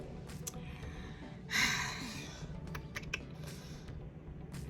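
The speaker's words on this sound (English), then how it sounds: "Yeah, a lot of typing." Steady clicking of keys on a computer keyboard, close and fairly quiet, with a brief louder rustle partway through.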